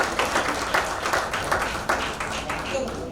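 Brief burst of audience applause at an SBI Life campaign event, clapping rising in quick pulses over a few seconds with some crowd voices mixed in.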